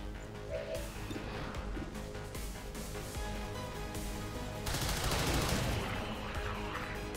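Rapid gunfire from a video game during a live stream, dense bursts of shots running steadily under game audio and growing louder toward the end.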